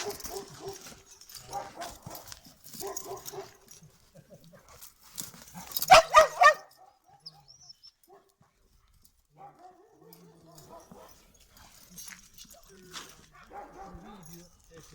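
Dogs bark and yip in scattered bursts, with a louder cluster midway, while people talk nearby and movement noises fill the gaps.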